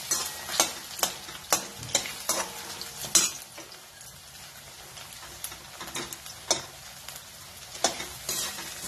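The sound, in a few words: potato pieces roasting in a pan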